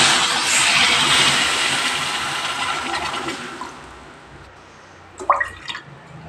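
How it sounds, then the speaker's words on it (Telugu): Water poured into a pan (kadai) holding a cup of sugar for syrup, a loud close rushing pour that tapers off, followed by a few brief clatters. "ఇందులో కొంచెం వాటర్ వేసుకుందాం"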